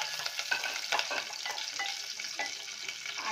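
Cumin seeds and curry leaves frying in hot oil for a traditional Bhogi vegetable dish, giving a steady, close crackling sizzle with a little stirring and no talk.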